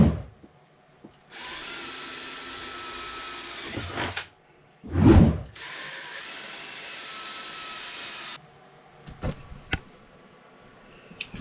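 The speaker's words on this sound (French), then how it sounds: "je fais une empreinte et après je perce" A power drill bores holes on a boat in two sustained whirring runs, separated by a short loud burst and followed by a few sharp clicks in otherwise quiet surroundings.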